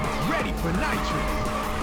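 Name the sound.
car drifting with tire squeal in Ridge Racer 2 video game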